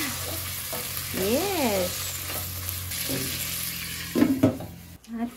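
Pork sizzles and fries in a hot pan while being stirred close by, a steady crackle under a woman's occasional speech and a brief exclamation.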